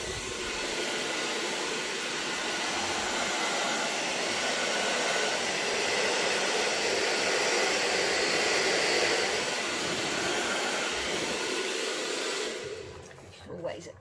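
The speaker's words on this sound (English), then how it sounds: "So I'm going to gently blow over the white and then blow over that bluey purple colour." Air from a blower streams steadily over an acrylic Dutch pour painting, a loud continuous rushing hiss that holds for about twelve seconds before cutting off.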